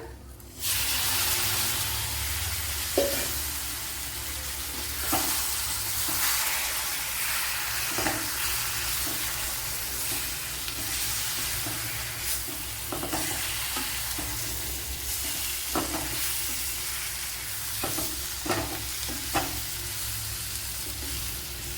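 Citron pieces hit a pan with jaggery for an Onam citron pickle, giving a steady close sizzle and frying hiss with scattered stirring scrapes and clinks throughout.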